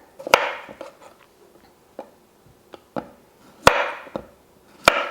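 Kitchen knife trimming the ends of a medium zucchini on a cutting board: a handful of sharp, crisp chops hitting the board at uneven intervals, close and clear, with no talking.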